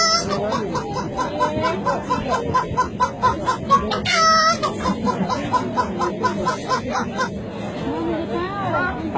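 A voice imitates a chicken clucking, with a quick, rhythmic run of clucks and a brief squawk. The sound is close and moderately loud, with faint background chatter.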